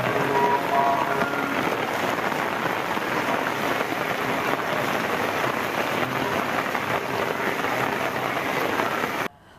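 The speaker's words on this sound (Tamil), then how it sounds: "ராமேஸ்வரத்தில் விட்டுவிட்டு கனமழை பொழிந்தது." Heavy rain pouring steadily in Rameswaram, a dense, continuous hiss of drops beating on surfaces, loud and close throughout before cutting off at the end.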